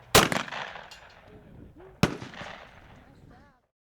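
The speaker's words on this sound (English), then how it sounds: "convinced me to try out my clay shooting capabilities, and my first shot was a success" Two sharp shotgun blasts at clay targets, about two seconds apart, each loud and close with a booming echo trailing off outdoors, and faint voices in the background.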